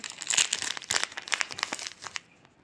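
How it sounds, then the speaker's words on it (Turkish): Someone cuts open a plastic bag while making su muhallebisi, a Turkish milk pudding. Close, irregular crinkles and rustles come in quick bursts, then fade into quiet near the end. "Tekrar poşetimi kestim."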